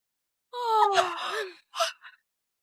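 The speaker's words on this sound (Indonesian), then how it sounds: "aku cuma menguap" A young woman gives a long, drawn-out yawn, a voiced tone sliding downward, followed by a short breathy exhale; it is close and alone, with no talk, late at night indoors.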